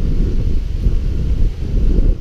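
Steady, heavy wind rushes across the microphone in a continuous low roar at San Fabian Beach, with no talking.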